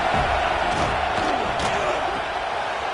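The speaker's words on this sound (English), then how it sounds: "This crowd bringing the energy and noise early." Football stadium crowd roaring during a game, a thick continuous wall of cheering and shouts filling the space, loud and steady.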